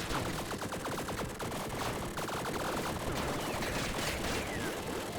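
Rapid crackling barrage of beer mortars firing in the roguelike Tiny Rogues, a dense continuous stream of small popping blasts layered under game music, loud and unbroken throughout.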